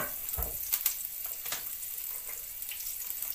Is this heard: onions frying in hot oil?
yes